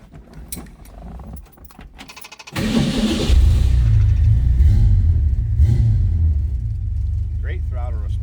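Keys jingle, then a 1967 Ford Mustang Coupe cranks and starts, settling into a deep, loud rumbling idle with a few throttle blips, heard up close.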